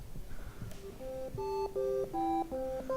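A µTune microtonal Eurorack quantizer module drives a synth through a 12-division equal-tempered scale, producing a chiptune-like run of short, bright stepped notes that grow louder after a faint start, with no talking.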